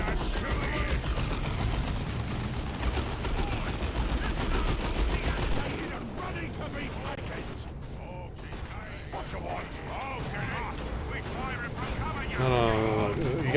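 Squad suppressive gunfire in Warhammer 40,000: Dawn of War 2, dense rattling machine-gun bursts and clattering mechanisms running continuously, with people talking over the battle noise throughout.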